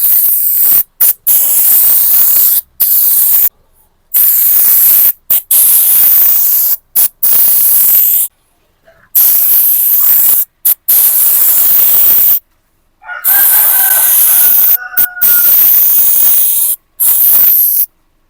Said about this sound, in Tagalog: i-spray natin siya dito sa may labas